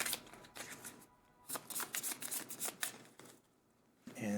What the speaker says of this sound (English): I'm shuffling all the mage cards, including the ones, or except for the ones that were trashed.